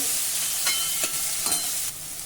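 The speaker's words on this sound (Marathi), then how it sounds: "यामध्ये थोडं तेल घालूया आणि मध्यम आचेवर हा कांदा देखील छान तांबूस रंगाचा होईपर्यंत आपल्याला भाजायचा आहे" Onion fries in oil over medium heat, a continuous close sizzling hiss broken by a few quick scraping stirs of a spoon, easing slightly at the very end.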